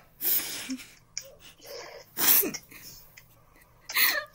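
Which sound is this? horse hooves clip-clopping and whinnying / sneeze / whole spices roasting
sneeze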